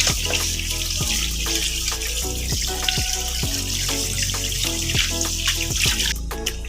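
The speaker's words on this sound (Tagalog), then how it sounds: "ugasan natin yung taba. Ay, yung pata." Pork leg being washed under a running kitchen tap, a steady close stream of water splashing and gurgling over meat in a sink, with irregular drips and sloshes and no talking.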